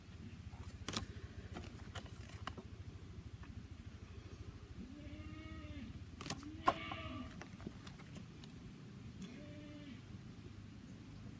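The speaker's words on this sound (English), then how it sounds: "Those goats are yelling because they're hungry." Hungry goats on a farm bleat in a few moderate, wavering calls from a short distance, rising over steady low background rumble with occasional knocks.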